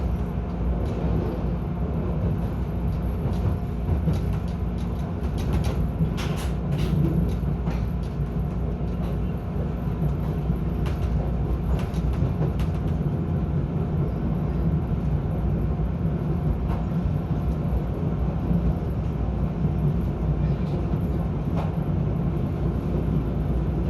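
Riding a CTA Brown Line elevated train in Chicago: a constant loud rumble of wheels and car noise with clacks and rattles over the track, steady for the whole stretch.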